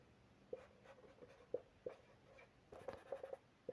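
A black pen writing during an economics lecture, soft scratchy strokes and small taps repeating in an irregular rhythm, faint and close, with light background hiss.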